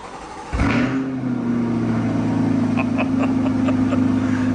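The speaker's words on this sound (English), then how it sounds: "Every Corvette video should start with a cold start, right?" A Corvette C8 V8 cold start: a starter catch, then a sharp flare of revs that settles into a loud, steady, high idle, close by and running alone.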